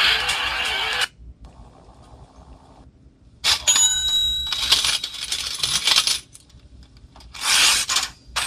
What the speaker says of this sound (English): if you actually listen to that coin sounds